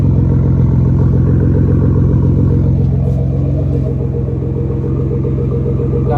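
A car fitted with a Fabworx 4-inch titanium straight pipe exhaust idles loudly and up close, a steady deep rumble with a throbbing, slightly uneven pulse that holds for the whole stretch, alone without talk.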